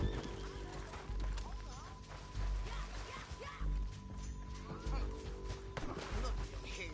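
Horses in Red Dead Redemption 2 whinny and snort over heavy, rhythmic hoofbeats, with loud low thuds recurring about once a second amid game ambience and occasional crashes.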